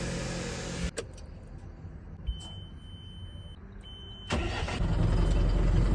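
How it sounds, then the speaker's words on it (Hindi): A car arrives at a roadside stop at night after an accident, its engine loud and close at the start, then a steadier mid-pitched engine rumble swelling up near the end, with faint thin tones in between and no talk. "देखो एक गाड़ी आई है, एक्सीडेंट हुआ इसका"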